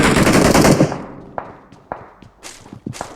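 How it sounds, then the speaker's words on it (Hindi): Video game gunfire: a dense burst of rapid automatic shots for about a second, followed by scattered single sharp cracks and thuds at irregular intervals, loud and close. "बैक टू बैक अंदर से फायरों की आवाज़ आ रही होती है"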